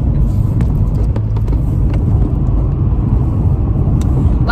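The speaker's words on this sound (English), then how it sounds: "I'm driving hella fast for no reason." Steady loud road rumble from inside a car moving fast, engine and tyre noise continuous throughout with no talking.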